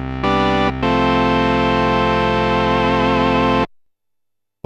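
Four panned voices from a Döpfer modular synth sustain a thick chord through a Soundforce Chorus 6 stereo chorus, with gently wavering upper harmonics, loud and close, a short break early on and then an abrupt cutoff into silence.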